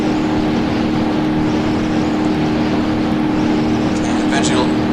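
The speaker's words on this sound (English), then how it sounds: "rings are starting to cook and blows the head gasket" Car engine in the BeamNG video game running flat out at extreme speed as its head gasket blows, a loud steady droning roar close up with constant hum and no pauses.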